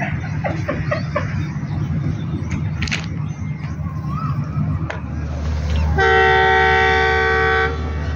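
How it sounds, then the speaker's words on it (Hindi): Khyber Mail train locomotive horn sounds loud and sustained for about two seconds at the end, a steady multi-tone blast following a stretch of station bustle, rumble and scattered voices. "हॉर्न दे दिया जी, खैबर मेल का इंजन लग चुका है"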